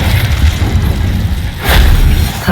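Incendio fire spell cast in Hogwarts Legacy, a deep booming whoosh swelling up late in the clip over a continuous low rumble of game background sound.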